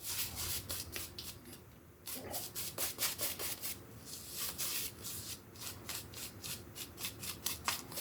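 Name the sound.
synthetic-knot shaving brush working up lather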